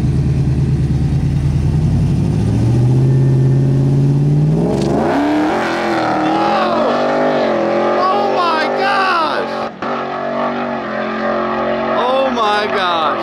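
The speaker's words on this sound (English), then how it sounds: "427 supercharged GMC giveaway truck." A supercharged 427 GMC four-wheel-drive truck launches hard, starting with a low idle rumble that jumps into a loud rising roar and whine through the gear change, under excited talk.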